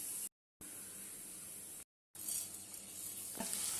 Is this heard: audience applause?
no